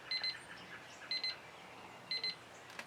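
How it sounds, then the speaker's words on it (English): Kitchen timer beeping during an acrylic paint pouring session, three evenly spaced bursts of rapid high-pitched double beeps, about a second apart, clear against a quiet room with no talking. "Excuse me while my timer goes off."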